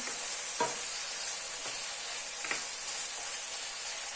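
Spices being stirred in a pan of chicken sauce for penne, a soft continuous sizzle broken by a few scraping spoon strokes at irregular intervals, quiet and close, no voices.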